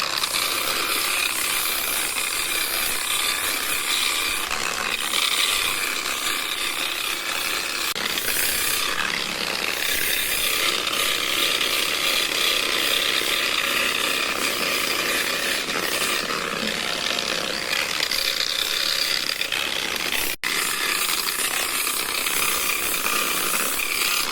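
Stone being sanded with a 120-grit silicon carbide velcro disc on a power tool, a loud continuous whirring grind with rattling texture, steady and close throughout.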